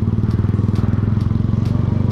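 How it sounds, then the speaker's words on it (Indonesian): A custom Yamaha Scorpio built as a scrambler, its single-cylinder engine idling close by with a steady, rapid thumping pulse and a gritty rattle. "Motor ini basicnya Scorpio ya."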